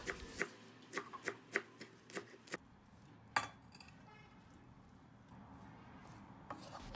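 Half a bunch of parsley is finely chopped with a knife on a board, a run of crisp, evenly spaced close chops followed by softer scraping and a quiet stretch, with no voices.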